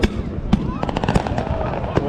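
New Year's Eve fireworks in Brazil burst in a quick series of sharp cracks and pops, some near and some farther off, with faint voices underneath.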